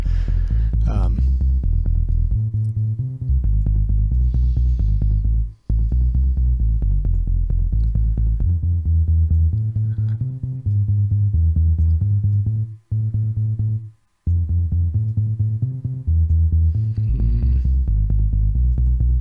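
A repeating, throbbing synthesizer loop with a deep bass pulse, its timbre shifting as it plays, with brief dropouts and bright sweeps near the start and end.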